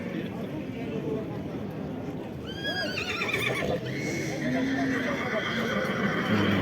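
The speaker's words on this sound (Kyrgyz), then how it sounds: "Жылкы абдан көп экен." Horses at the Karakol livestock market: a loud, close whinny rising and falling over a busy crowd, with hoof clops and steady chatter throughout and people talking nearby.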